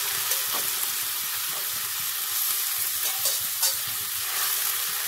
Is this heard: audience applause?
no